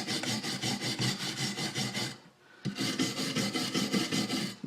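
A disc brake hub and its rotor mating surfaces are scrubbed clean with quick rhythmic rasping strokes, about ten per two seconds, close and steady. A brief pause comes before the scraping resumes at the same pace, with no talking.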